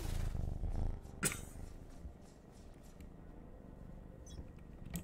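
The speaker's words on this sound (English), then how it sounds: "That was my cat purring." Pet kitten of a few months purring, a soft continuous low rumble close to the microphone, loudest in the first second and then fading to a faint steady hum with a brief click.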